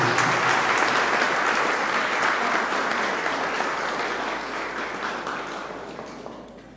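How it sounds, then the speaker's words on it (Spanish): A congregation at a Catholic Mass claps in sustained, full applause that gradually fades over several seconds. "Un aplauso para Erickson Steven."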